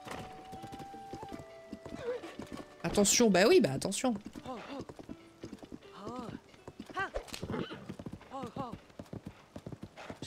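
A nervous horse whinnies sharply and its hooves clip-clop at a gallop in Zelda: Tears of the Kingdom, with rhythmic hoofbeats under someone talking and background game music.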